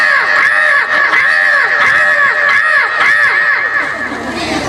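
A voice imitates crows cawing during a comic performance: a loud, steady run of repeated nasal caws, one after another with barely a pause, filling the whole stretch.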